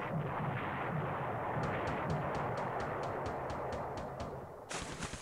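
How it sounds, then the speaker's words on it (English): Torpedoes striking a heavy cruiser in the naval war game War in the Pacific, a loud rumbling naval battle with a rapid series of evenly spaced sharp pings, then a bright burst of impact noise at the end, no talk. "That was multiple torpedoes into the side of the Louisville."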